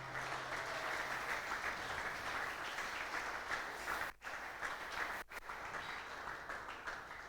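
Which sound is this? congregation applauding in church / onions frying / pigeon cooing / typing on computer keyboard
congregation applauding in church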